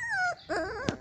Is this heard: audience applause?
no